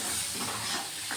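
Spice masala fries in oil over a high flame for a Himachali arabi (taro) sabji, giving a steady, bright sizzling hiss that runs unbroken the whole time with no voices.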